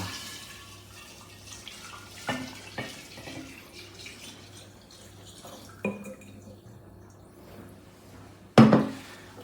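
A prepared alcohol solution is poured in for an aquavit infusion, giving a soft watery trickle with a few sharp clinks of glass or utensils and a louder splash near the end.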